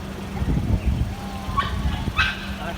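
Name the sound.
dog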